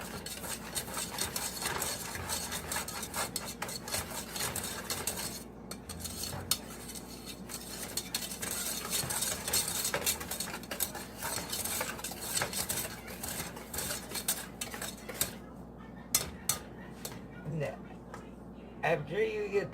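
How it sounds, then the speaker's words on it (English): A spoon scrapes and clinks steadily against a bowl while sugar and flour are stirred together for a coconut cream pie, a continuous close rustling and tapping that runs throughout. "Stir the sugar and flour together so it's thoroughly mixed together."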